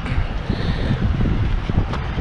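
Strong wind buffets the microphone at a scenic roadside spot near Nagercoil on the Chennai–Kanyakumari route, a steady loud rumbling roar with gusty swells and no pauses.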